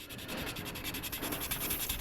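Continuous abrasive rubbing of sandpaper on a 1/72 scale Sinanju plastic model kit, steady back-and-forth strokes close up with no talking.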